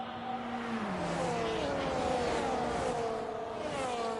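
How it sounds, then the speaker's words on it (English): The twin-turbo V8 of a Mercedes AMG GT Black Series safety car in a racing game at Shanghai, droning continuously with a shifting pitch as it gears down and pulls again, loud and close, with no voices. "that nice twin turbocharged V8 of the Mercedes AMG GT Black Series safety car"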